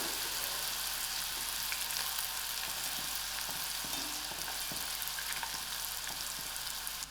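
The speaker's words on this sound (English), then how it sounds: "They fry very fast." Snack chips fry in hot oil, giving a steady, close sizzle with fine crackling and occasional pops that runs unbroken for about seven seconds without talk.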